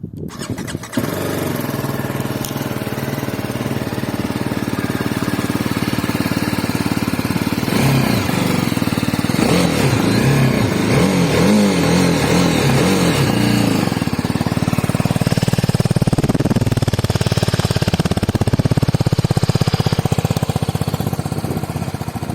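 A BMW G310R motorcycle starts and its single-cylinder engine idles and revs, heard as a loud, close, steady chugging with rising and falling revs through the middle, continuous throughout with no talking.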